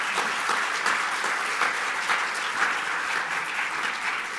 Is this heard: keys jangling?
no